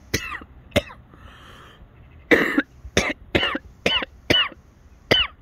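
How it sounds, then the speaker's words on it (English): A person has a coughing fit as if choking, with a string of about eight harsh, raspy coughs in uneven bursts, heard close and loud with brief gasps between them. "Choking."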